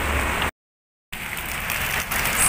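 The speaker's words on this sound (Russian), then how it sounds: "Да, вот такой дождик." Steady rain in the old town of Batumi patters as a dense hiss, cut by a half-second gap of silence, then continuing evenly.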